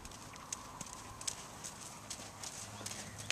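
Horse cantering during a riding lesson, soft rhythmic hoofbeats thudding at a steady pace, fairly faint and close, over a quiet background.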